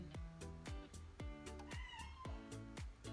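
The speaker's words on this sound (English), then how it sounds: "my cat's having a crazy moment" A pet cat meows repeatedly indoors during a restless burst of activity, a string of sharp, fairly close cries coming in quick succession with brief gaps between them.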